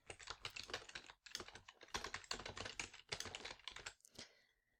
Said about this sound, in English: I can highlight these words and type in my headline.